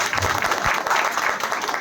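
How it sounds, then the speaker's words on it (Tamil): A crowd at a Vaikunta Ekadasi event in Tamil Nadu claps in a brief, dense burst of applause, close and steady throughout. "அனைவரும் ஒரு கைத்தட்டை வழங்குமாறு கேட்டுக்கொள்கிறேன்"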